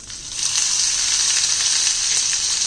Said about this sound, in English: Lower the flame and just saute this for 30 seconds.